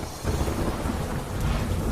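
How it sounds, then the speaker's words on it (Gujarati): Heavy rain pours steadily in Daman while a low thunder rumble rolls underneath, a dense continuous wash of noise with no voices. "દમણના અનેક વિસ્તારોમાં ધોધમાર વરસાદ।"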